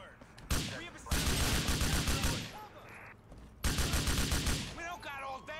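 Bursts of rapid gunfire from the video game Grand Theft Auto IV, loud and close, with two long sustained volleys separated by brief quieter gaps and shouted voices in between.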